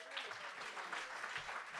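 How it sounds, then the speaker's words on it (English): Wedding reception guests clap in a soft, steady round of applause for the groom as he comes up to give his speech. The sound is heard from a distance and is fairly quiet, with faint voices mixed in. "please give him a round of applause, the groom"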